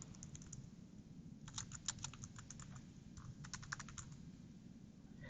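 Computer keyboard typing during a software demo, quick bursts of light key clicks in uneven runs over a soft, low background hum, fairly faint and close.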